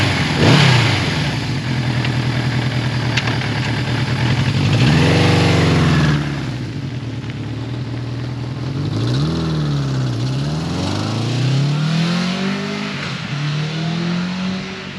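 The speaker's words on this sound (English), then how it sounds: "I am currently riding Suzuki's" Vintage 1981 Suzuki GS550T motorcycle being ridden, a steady loud engine drone through the whole stretch with several rising and falling revs as it shifts and accelerates, with no talking.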